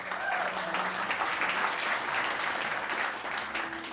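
Studio audience at a live radio concert breaking into steady, moderately distant applause that holds evenly for several seconds with a faint crowd murmur.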